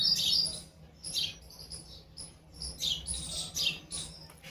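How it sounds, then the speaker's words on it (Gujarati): House sparrows chirp in short, bright bursts, fairly faint, with a low background hum and no talking. "સાંભળો છો તમે ચકલાનો અવાજ?"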